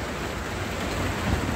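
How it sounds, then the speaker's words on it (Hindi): Rain falling during stormy weather outdoors, a steady dense hiss with a low rumble underneath, continuous and fairly loud with no speech. "तो बारिश हो गई"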